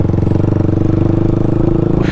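A motorcycle engine idles loudly and close by in a steady pulsing throb while the bike is being parked, with a slight rise in pitch just before it ends.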